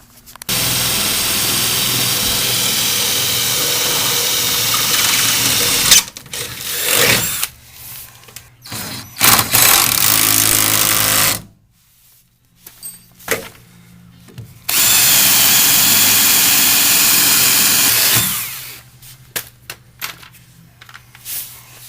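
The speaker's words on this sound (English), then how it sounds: "we're going to tighten those 2 5/16 bolts, and that bracket will be done" Two 5/16 bolts being tightened on a running board bracket of a Nissan NV van with a power driver, heard as two loud, sustained bursts of whirring separated by short pauses and smaller clicks, with no talking.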